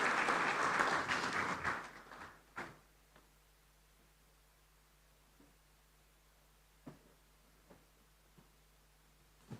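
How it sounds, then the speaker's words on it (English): Applause from delegates at an African inter-parliamentary conference swells briefly and fades within about two seconds. After that a quiet room follows, with occasional faint knocks and bumps. "Please, a round of applause for Dr. Hudenga David."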